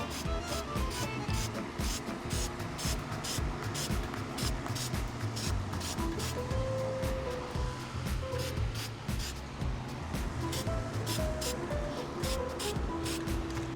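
Spray paint hitting the taped-off rusty body of an old BMW M3 that sat for 13 years, a rapid series of hissing bursts with a continuous rough undertone, moderately close.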